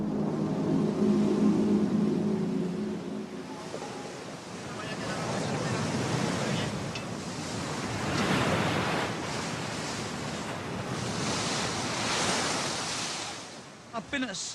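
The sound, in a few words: stormy sea waves and wind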